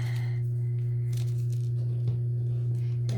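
Tape is torn for taping the backs of kitchen spice signs, giving brief, soft ripping sounds over a loud, steady electrical hum.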